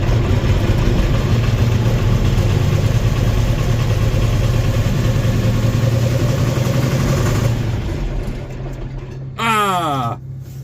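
An engine on a cold start settles into a steady, rumbling idle close by. The rumble drops after about eight seconds, and a brief, sweeping groan-like sound follows near the end.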